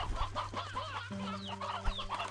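Chickens cluck busily in the video game Slime Rancher 2, several birds chattering close together while steady electronic game tones hum underneath.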